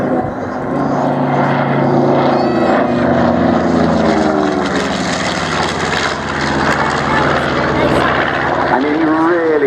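A propeller-driven display aircraft with a glazed nose flies past at the Wings and Wheels airshow at Dunsfold, its loud engine drone rising and falling in pitch as it passes, with people talking over it throughout.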